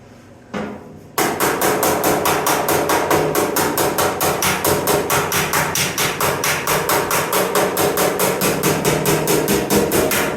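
Hammer banging on metal patch panels for a truck in a shop, a fast steady run of loud, close, evenly spaced blows continuing without pause after a brief quieter lead-in.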